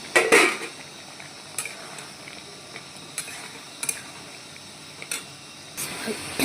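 Soybean chunks go into a cooking pan and are stirred, giving a run of metal clinks and scrapes against the pan over a low background of cooking noise.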